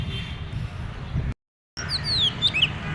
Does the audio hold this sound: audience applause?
no